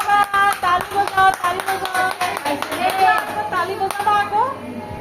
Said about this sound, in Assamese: বাবা তালি বজাও